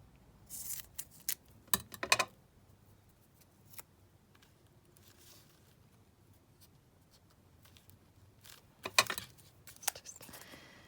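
Scissors trimming paper while an envelope pocket gift is assembled: a few quiet, close snips in short clusters, a pair near the start and another toward the end, separated by soft handling sounds.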